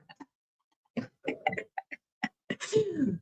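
A single sneeze near the start, short and close, followed by other speech-like sounds and a louder burst of noise near the end.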